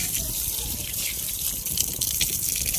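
Steady running water splashing from a tap, with soft irregular spatters as native chicken is rinsed under the stream, close by and continuous.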